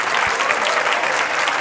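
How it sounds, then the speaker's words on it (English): At a World Cup of Pool quarter-final match, a crowd applauds and cheers in a dense, steady roar of clapping that fills the whole brief moment. "Probably going to get a big cheer after this 9 goes down"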